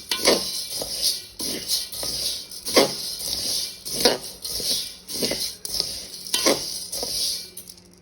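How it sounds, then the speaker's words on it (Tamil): Whole urad dal, about two kilos, dry-roasted in a pan, giving repeated scraping stirs with a steady faint sizzle and rustle of grains, in regular strokes at close range with no talk. "நான் வந்து இப்போ 2 கிலோ உளுந்து வந்து நான் வறுத்து கொண்டிருக்கிறேன்"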